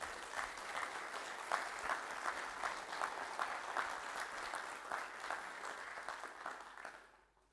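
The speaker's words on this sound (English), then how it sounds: "please have a little applause for Kirk being so persistent" Conference audience at EuroBSDCon 2023 applauding for Kirk, a steady, moderately distant round of clapping that fades out at the end.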